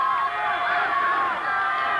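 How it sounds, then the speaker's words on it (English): A crowd at a 1988 boys high school state tennis final cheers and yells steadily as a player returns to the court, a dense sustained roar of many voices close and loud throughout. "the crowd crescendos as Rosenbaum comes back out there"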